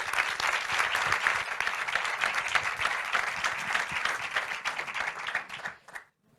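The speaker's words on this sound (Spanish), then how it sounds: "Os pido, por favor, un fuerte aplauso para recibir a Paolo Sorrentino." An audience in San Sebastián gives a strong, dense round of applause to welcome director Paolo Sorrentino to a masterclass, many hands clapping steadily before it thins and stops abruptly near the end.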